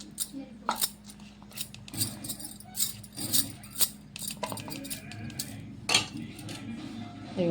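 Peanut and coconut mixture being stirred into hot jaggery syrup for palli laddu, giving repeated clinks and scrapes of a utensil against a metal pot at close range, with brief soft voice sounds.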